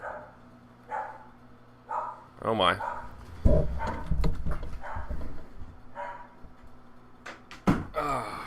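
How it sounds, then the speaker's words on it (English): Dogs bark in short scattered bursts, some near and some farther off, upset by lawn mowing close by; a voice speaks over them. "I think the lawn people are mowing the grass, upsetting the dogs there"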